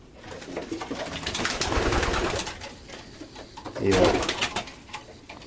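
Pigeons coo and rustle close by, with a louder flurry of calls midway through; no one speaks.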